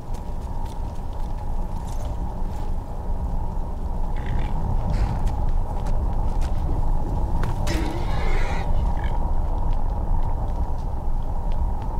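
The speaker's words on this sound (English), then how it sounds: "Ainda bem que o cavalo é muito bom numa escada." Skyrim horse whinnying with hooves clattering on stairs, busy game sounds and a steady background hum throughout, the neigh and hoofbeats rising briefly around the middle.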